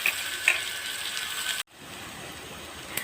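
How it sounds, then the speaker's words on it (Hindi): Onions frying in oil until light brown in a home kitchen, giving a steady, dense sizzle close by that breaks off abruptly for a moment and then resumes, with a faint clink near the end. "तो प्याज को मैं करूँगी बिल्कुल लाइट ब्राउन।"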